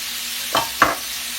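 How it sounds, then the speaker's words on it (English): A spoon or spatula stirs flour into melted butter in a pan, making two short scraping swishes over a faint, steady sizzle. "You mix that in good with your back of your spoon or spatula or whatever."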